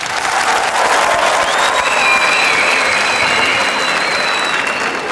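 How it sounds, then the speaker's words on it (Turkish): Loud, sustained clapping from a talent-show audience in Turkey fills the room, with a faint whistle-like tone threading through the crowd noise and a few scattered voices underneath. "İstemeyenler alkışlasın."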